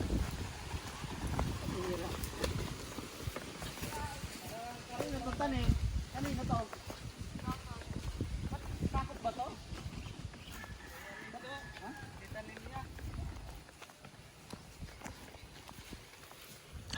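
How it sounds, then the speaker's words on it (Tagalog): Horse hooves clip-clopping on a countryside farm, a series of irregular knocking steps at moderate distance, mixed with rustling and outdoor noise and partly under people talking. "Ay, may kabayo, mahal."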